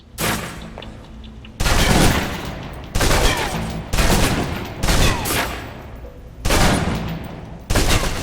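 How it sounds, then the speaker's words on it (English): A submachine gun in the Alpha Protocol video game fires in six loud, sustained automatic bursts of roughly one second each, separated by short pauses, until the magazine is emptied. "Now, let's move on to the submachine gun. Now let's empty the clip."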